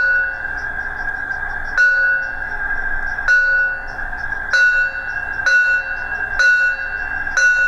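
A Piko BR 78 model steam locomotive's sound module plays a bell, striking about every one to one and a half seconds. Each clear ring decays over a steady mechanical hum.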